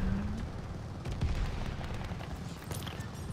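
Gunfire and booming blasts in Call of Duty, loud and continuous with dense low rumble and scattered sharp shots throughout.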